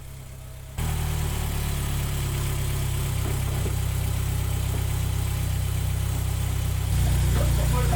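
The engine of a Peugeot 205 Rallye runs on a cooling system test, starting up abruptly and then holding a steady, rumbling idle with a low vibrating throb, close and loud throughout.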